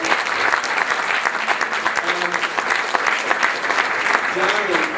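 An audience applauds the opening band at a summer 2007 show in Ogunquit, Maine, with steady, dense clapping held at an even level and a few voices mixed in.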